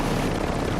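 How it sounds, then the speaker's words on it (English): A helicopter in a video game makes a steady, close, dense rotor and engine roar through a brief moment with no other sounds. "There's a helicopter!"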